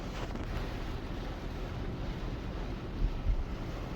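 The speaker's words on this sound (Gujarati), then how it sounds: "પવન સાથે વરસાદ" Dense, roaring wash of heavy rain in Saurashtra, Gujarat, blended with gusting wind buffeting the microphone, continuous and fairly loud, no voices.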